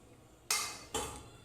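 Pieces of fish go into a hot kadai for a Bengali fish curry, giving two sharp, bright bursts that fade quickly, the second following about half a second after the first.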